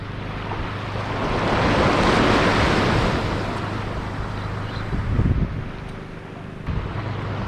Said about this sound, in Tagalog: Tapos ang alon, nakikita niyo naman, di masyado maalon, kalma lang.